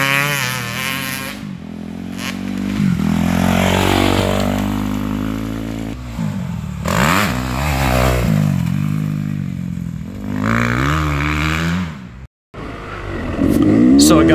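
Dirt bike with newly fitted taller enduro handlebars riding a sandy track in Wrens, Georgia, its engine revving up and down in repeated surges and shifts, fairly close and loud, with a brief cut near the end.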